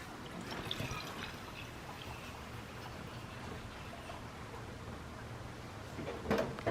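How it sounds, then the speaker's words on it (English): Water draining out of a Land Rover part during a repair, a steady close trickling and gurgling wash that runs throughout, with a brief louder splash near the end. "Yeah, water's coming out."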